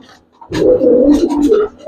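Giribaz pigeons coo in a steady, fairly loud run of low throaty calls lasting over a second, close by, with no talk over them.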